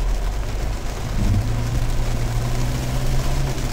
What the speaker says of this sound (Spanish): vamos a seguir bajo la lluvia, no puedo hacer más nada